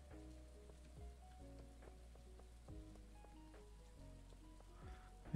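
Rainy-day ambience in the farming game Stardew Valley: soft, steady patter of rain under a looping, melodic game soundtrack, faint and continuous throughout.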